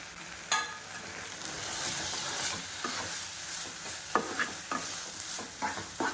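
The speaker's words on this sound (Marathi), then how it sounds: "आपण भाजी आणि सर्व ग्रेव्ही मिक्स केलेली आहे" Methi matar malai vegetables and gravy stirred in a pan, giving repeated scraping strokes with a soft sizzle of frying underneath, close and fairly loud, with no voices.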